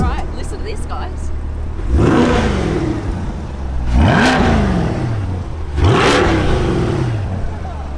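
A 2021 Chevrolet Corvette Stingray engine revs three times at close range, each one a sharp, loud rise in pitch that falls back to idle, evenly spaced over eight seconds.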